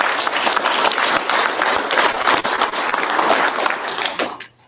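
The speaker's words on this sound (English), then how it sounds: "So one more round of applause for those guys." Applause from an awards-ceremony audience at the PRI 2025 trade show, honoring regional drag racing winners: dense, sustained clapping across the room for several seconds, then tapering off.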